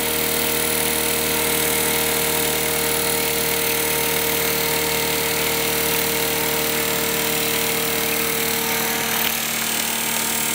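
An electric motor running on a Kromrey converter powered from a battery and struggling under load: a continuous loud mechanical drone and whine with steady tones, close and unbroken throughout, with no talk.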